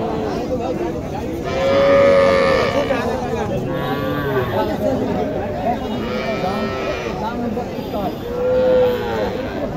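A red Sahiwal calf moos repeatedly in drawn-out calls at a busy cattle market, with people chattering nearby.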